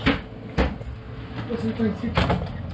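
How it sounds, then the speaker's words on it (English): An old passenger train door in Kandy, Sri Lanka, bangs shut, with a sharp thud early on and another a moment later, over the steady rumble and hum of a moving carriage. "Close the door."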